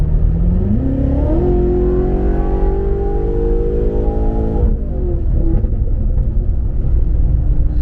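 A BMW with a turbo intercooler, in sport mode, accelerates hard. The engine drone climbs in pitch through a loud pull, then drops as the revs fall, with a constant heavy rumble underneath.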